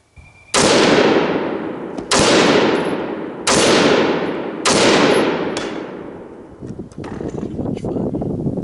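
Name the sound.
rifle (SBR) being fired, gunshots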